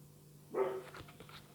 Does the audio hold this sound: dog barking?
yes